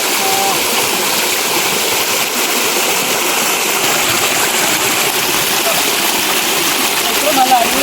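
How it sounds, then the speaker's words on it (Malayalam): A small waterfall and stream at Nagapara, Kerala, pouring in a loud, close, continuous rush of splashing water that holds steady throughout. "ഇവിടെ ചെറിയ വെള്ളച്ചാട്ടമുണ്ട്"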